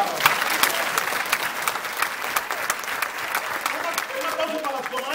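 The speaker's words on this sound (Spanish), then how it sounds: "Un aplauso para los comadres." A crowd at a talk applauds the comadres, the sharp claps of nearby hands standing out over a dense wash of clapping, with voices rising toward the end.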